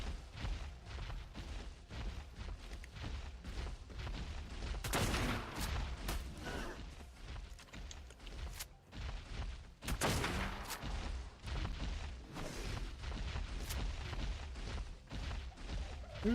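Repeated gunfire from a gun in the video game Ark, a dense run of loud shots with two heavier bursts, over a constant low game rumble.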